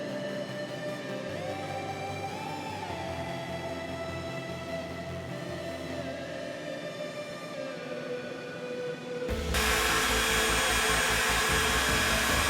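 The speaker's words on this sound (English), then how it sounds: "Running the spindle at full speed." A SainSmart CNC spindle runs at full speed inside a closed KABA Lite enclosure, giving a continuous whining drone with a rising pitch sweep before jumping abruptly to a louder, harsher, steady roar near the end.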